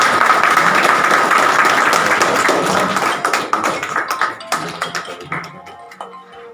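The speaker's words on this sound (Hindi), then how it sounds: "जरा जोरदार तालियां दो" Audience at an Aam Aadmi Party gathering in Dhumakot, Uttarakhand, breaks into loud, dense applause that thins into scattered, separate claps before dying away.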